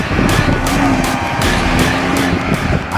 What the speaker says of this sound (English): My focus was on precise braking during the timed lap.